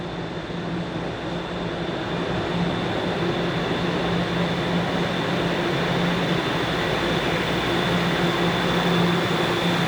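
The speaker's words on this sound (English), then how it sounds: "it sounds as if our train is arriving" A Toronto subway train pulls into Sheppard-Yonge station, a steady rolling roar with a high whine that holds and slowly builds over about ten seconds, close and loud on the platform, with no voices.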